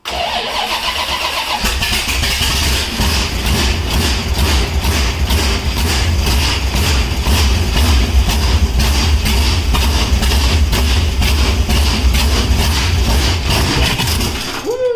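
Hot rod engine cranking briefly, then catching and running loud and close with a steady, choppy pulse that carries on to the end of the clip.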